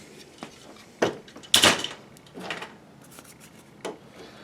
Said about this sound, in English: This little pin pushes on a switch that tells it when the door's shut. And I hear it hitting that.